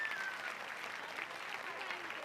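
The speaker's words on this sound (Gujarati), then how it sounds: "તાળીઓ પાડવાની છે." Audience applause at a village daughters' reunion gathering in Atkot: a steady, dense wash of many hands clapping, even in loudness throughout, with no pauses.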